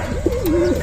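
A racing pigeon gives a single close, loud coo lasting under a second, a low rolling warble with no other sounds around it.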